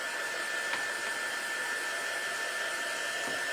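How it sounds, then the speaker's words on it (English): Hair dryer blowing on fabric wrapped over a plastic egg, a steady close whooshing hiss with a constant whine, uninterrupted and without voices. "So I'm just going to kind of dry it a little bit."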